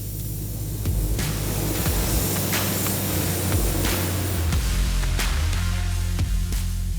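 A spray gun lays black paint onto the inside of car doors, giving a continuous, loud, even hiss of compressed air that keeps going with only slight pulses throughout.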